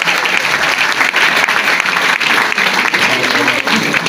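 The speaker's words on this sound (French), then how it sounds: "Acclamez pour le pays" A crowd at a speech event bursts into sustained, dense applause, loud and close, with many hands clapping steadily throughout and a voice faintly mixed in.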